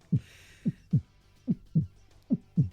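Heartbeat thumps opening a song: deep, close double beats in a steady rhythm, about seven pulses over near-silence.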